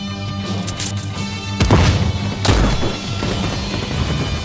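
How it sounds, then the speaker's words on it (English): Grenade blasts in the shooter game The Cycle, two sharp, loud explosions about a second apart, each with a booming low crack and a rumbling decay over steady background game ambience. "Hit with a grenade."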